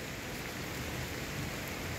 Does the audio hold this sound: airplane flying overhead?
no